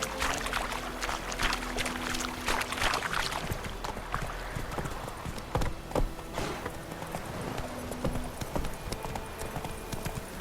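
Roach, a horse in The Witcher 3, gallops with a quick, steady clip-clop of hooves throughout, close and moderately loud over a soft ambient bed.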